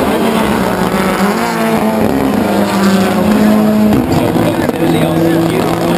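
Global RallyCross race cars launching off the line at New Hampshire Motor Speedway in 2012, a loud sustained roar of several revving engines with rising tones, heard up close under an excited commentator's voice.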